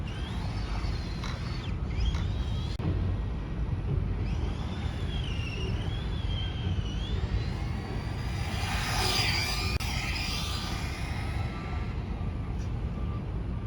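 Tamiya TT-01 radio-controlled car on a LiPo battery, a steady whining electric motor drone that rises and sweeps in pitch as the car speeds past, loud and continuous with no talk.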